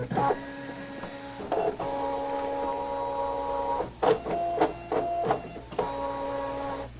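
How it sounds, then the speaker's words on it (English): A Brother ScanNCut cutting plotter runs a test cut with whirring stepper-motor tones that start and stop, broken by clicks and brief mechanical clatter at moderate volume. "I'm going to say cut, and now the machine will automatically stop after that test cut."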